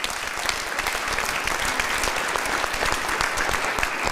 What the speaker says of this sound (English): Can you just give this a round of applause